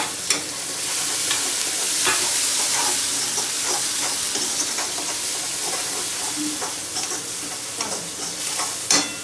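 Chopped tomatoes fry in a pan over sautéed onion and garlic, giving a steady loud sizzle throughout with scattered scrapes and clicks of stirring, and no talking.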